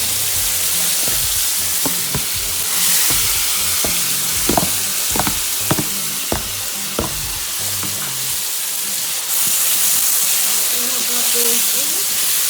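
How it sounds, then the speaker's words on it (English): Vegetables fry in hot oil with Dijon mustard, hissing loudly and steadily. A utensil strikes and scrapes the pan in a series of sharp knocks, and the sizzle carries on alone afterward. "So we're going to fry it like this until it is a little bit translucent"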